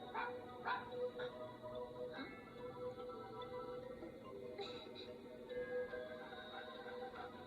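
Dog barking in quick yips and bow-wows, scattered through the clip at moderate distance, with faint speech-like sounds mixed in.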